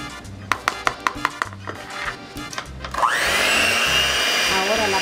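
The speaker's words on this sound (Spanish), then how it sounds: "Ahora las vamos a batir hasta que queden a punto de nieve." Egg whites from seven eggs are beaten to stiff peaks with an electric mixer. A few sharp taps come first, then the mixer starts and runs as a loud, continuous whir to the end.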